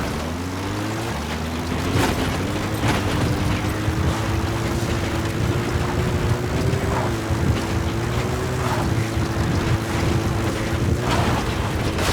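Support helicopter in Metal Gear Solid V: The Phantom Pain, a steady loud rotor and engine drone with a sustained hum that holds through the whole stretch, with no talk over it.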